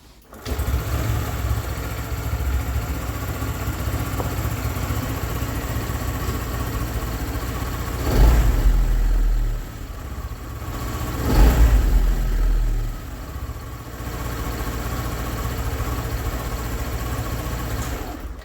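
A Yuki X Way 125 scooter engine starts up indoors at a dealership and settles into a steady, close idle that runs throughout, with a couple of brief surges in revs midway.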